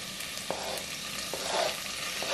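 Onion, ginger and garlic fry in a pan for beef korma, giving a steady hiss of sizzling broken by a few soft scraping ticks of a utensil, close and moderately quiet.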